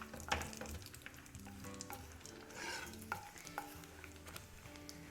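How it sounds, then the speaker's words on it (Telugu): Cashews and almonds frying in ghee for rava laddu, a faint, soft sizzle with occasional light clinks and stirring scrapes. "దూరగా వీటిని వేయించుకోవాలి."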